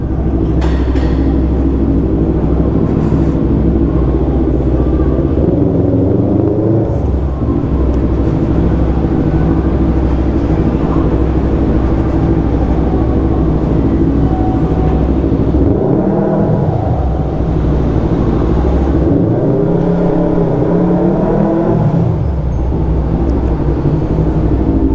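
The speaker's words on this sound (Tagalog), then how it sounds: "Na naman yung mga sasakyan." Continuous heavy traffic, a loud close rumble with several vehicles swelling and fading as they pass, steady throughout with no talking.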